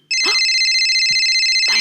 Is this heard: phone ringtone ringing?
yes